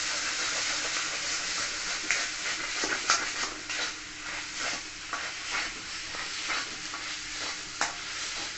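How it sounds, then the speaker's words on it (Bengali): Urad dal mixture for radhaballavi fries in a pan while being stirred, scraping strokes of a spatula recurring over a continuous close sizzle, with no voices. "ভালো করে নেড়ে রেখে কষে নেবো"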